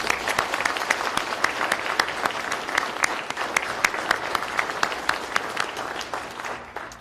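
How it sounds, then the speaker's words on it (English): An audience at an awards ceremony breaks into a sustained round of applause, dense clapping with a few sharper claps standing out, holding steady before tapering off near the end, with no talking. "let's give everybody a round of applause one more time"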